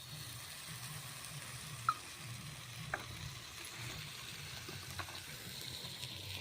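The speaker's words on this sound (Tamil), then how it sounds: "இப்போ இதில் லைட்டாக பச்சை வாசனை போகிற அளவுக்கு வதக்கிக்கலாம்" Onion and tomato paste with turmeric and salt sautéing in a pan for a crab masala, giving a steady close sizzle with a few soft stirring clicks throughout.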